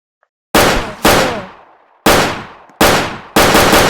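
Loud machine gun fire in a video game, coming in five sharp bursts with short gaps between them, each crack trailing off quickly, close and unaccompanied by talk.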